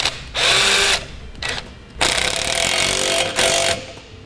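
Power tool tightening a bolt on a trailer hitch bracket, loud whirring bursts starting and stopping several times in close succession, with no talk.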